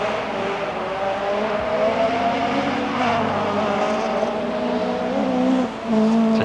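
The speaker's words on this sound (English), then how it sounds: "Sounds from the bark of that engine as though Mikkola really is trying." Mikkola's rally car engine barks hard at the 1988 Race of Champions near Paris, a loud, close, continuous rasp with shifting pitch and a brief dip near the end.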